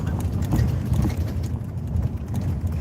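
Horse hooves clip-clopping in a steady, close, even rhythm that runs without a break.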